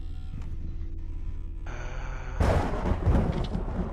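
Thunderstorm in the video game Madison, a steady low rumbling bed that swells into a louder, broad crackling roll of thunder midway, with no one speaking.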